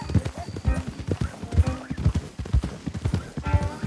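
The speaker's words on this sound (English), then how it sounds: "Don't want the horses clopping around outside the window." Horse hooves clop in Red Dead Redemption 2 in a steady, close, uneven rhythm of many hoof strikes, with a faint whinny and some low rumble underneath.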